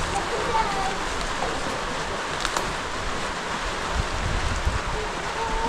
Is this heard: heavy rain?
yes